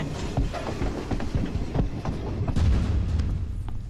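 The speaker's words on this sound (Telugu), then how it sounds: "ట్రైన్ మూవ్ అయిందా?" A train rumbles along the rails with rhythmic clacking and low thuds, loud and close, growing heavier toward the end.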